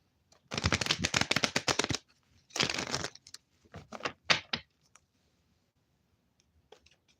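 Tarot cards are shuffled in several quick riffling bursts, close and crisp, followed by a few soft taps and then near silence.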